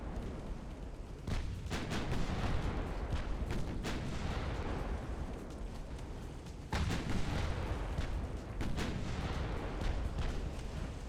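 Naval guns fire repeatedly in the Ultimate Admiral Dreadnoughts warship game, with loud booming shots and rumbling explosions over a dense, continuous battle din, and no speech.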